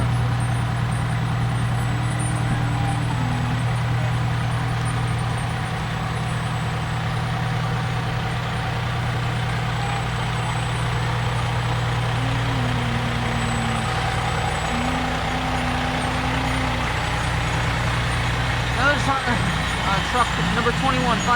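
Fire truck number 21 from Slackwood moves along a Memorial Day parade route. Its engine holds a steady low rumble at close range, a brief air-brake hiss sounds near the end, and people talk throughout.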